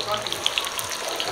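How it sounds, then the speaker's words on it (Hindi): Carrots frying in a pan of hot oil while cooking a Bihari mixed vegetable dish, a steady bright sizzle with small crackling pops throughout, fairly close. "देखिए गाजर फ्राई होना स्टार्ट हो गया है"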